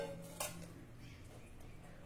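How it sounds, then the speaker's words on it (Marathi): Soaked jujube berries and their soaking water go into a steel pressure cooker: a single soft metallic clink, then a quiet, low shuffle of wet handling, all faint and close. "आता इथे कुकरमध्ये आपल्याला ही बोरं घालायची आहे"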